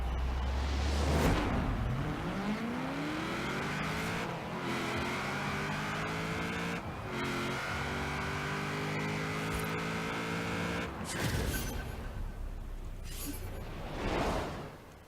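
Rotsun car in Forza Horizon 4 accelerating hard down a quarter-mile drag strip, engine note climbing steadily through several gear changes with brief shift dips, loud and continuous throughout with no talk.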